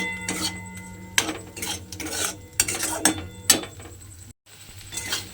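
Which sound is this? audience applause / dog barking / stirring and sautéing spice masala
stirring and sautéing spice masala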